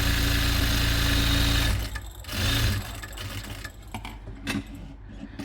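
Sewing machine stitching old towel fabric with a quarter-inch seam, a loud steady motor whir for about two seconds, then shorter bursts and pauses with faint handling noises.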